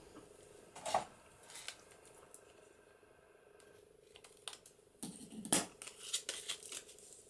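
Scissors cutting paper into junk journal tags, a few quiet crisp snips heard close up, one near the start and a cluster toward the end, in a hushed room.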